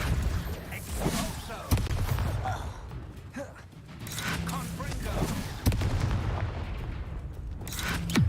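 A Depulso spell is cast in the video game Hogwarts Legacy, with sharp blast-like bursts and whooshing impacts amid ongoing combat noise while voices shout during the fight.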